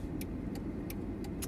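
Steady road and engine rumble from inside a 2012 Jeep Liberty 4x4 driving on the road, with a series of light, evenly spaced ticks on top.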